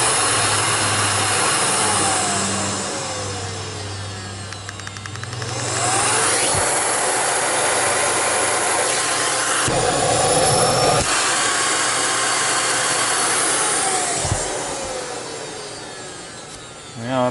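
Motor of a Miele S558 Red Velvet canister vacuum cleaner, recently serviced, running steadily and loud, a continuous airy roar with a brief dip and swell in pitch partway through.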